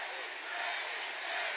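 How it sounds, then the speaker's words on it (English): A packed boxing arena crowd at the Jake Paul vs Deji fight roars and chants in a steady, dense wall of voices, loud and continuous throughout. "The crowd chant Deji"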